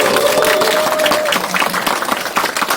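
An audience at a lecture event breaks into sustained applause, a dense wash of many hands clapping at once, steady and fairly loud with faint crowd murmur mixed in.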